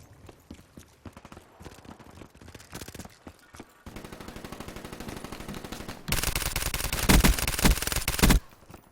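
Rapid automatic gunfire from a weapon in a Black Ops III free-for-all multiplayer match, loud sustained bursts that grow denser and harsher before cutting off abruptly.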